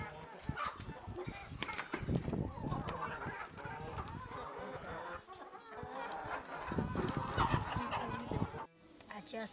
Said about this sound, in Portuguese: Bebê negro jogando milho para as galinhas.